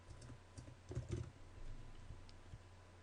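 Quiet typing on a computer keyboard, with soft, scattered key clicks tapping irregularly over a faint background hum.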